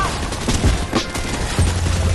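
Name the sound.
shotgun gunfire in the video game Fortnite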